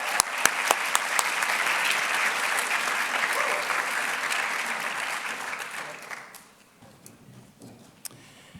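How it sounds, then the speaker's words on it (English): An audience at a medical college awards ceremony claps in a dense, sustained burst, then the applause thins to a few scattered claps near the end. "Let's take a moment and give a round of applause for the amazing work of these 3 exceptional"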